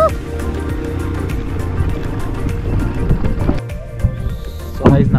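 An ATV engine runs steadily through a ride near the Zanskar and Indus confluence in Leh, Ladakh, a loud continuous low rumble with shifting revs and wind, swelling briefly near the end.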